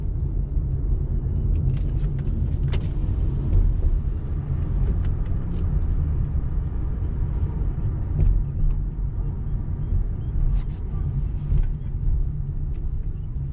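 An Infiniti G37 rolls at a drag strip, a steady low engine rumble and road noise filling the whole stretch with faint clicks and knocks above it.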